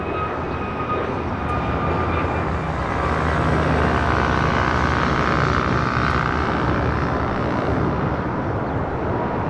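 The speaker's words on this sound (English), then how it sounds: "Delta A330 about to touch down on 25 left." A Delta Airbus A330 touches down on runway 25 left at LAX with a loud, unbroken jet roar that holds steady and close throughout, with no voices.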